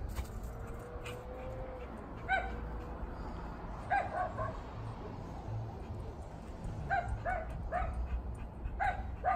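An American Bully/Pitbull dog whimpers and gives short yips in scattered bursts during outdoor fetch training, fairly close and moderately loud, with no talking.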